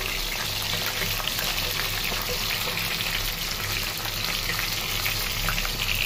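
Large fish frying in a pan of hot oil, a steady dense sizzle and crackle that holds evenly loud and close throughout, with no talking.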